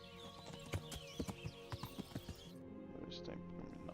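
Horse hooves clip-clopping in the medieval video game Kingdom Come Deliverance, a quick run of sharp, evenly spaced hoofbeats near and fairly loud, over a low background, with a brief neigh-like sound.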